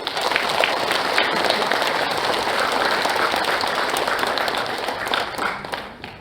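Audience applause welcoming bereaved family guests at a founding convention for a Yeosu-Suncheon uprising families' association, dense steady clapping from a crowd, loud and continuous throughout and tapering slightly near the end.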